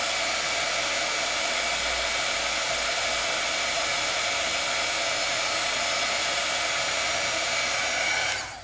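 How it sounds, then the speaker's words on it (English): A heat tool blows hot air to melt sealing wax for wax seals, giving a loud, steady close-up whoosh like a hair dryer that runs unbroken and cuts off at the very end. "So if you're used to doing embossing with a heat tool, this is going to be easy peasy for you."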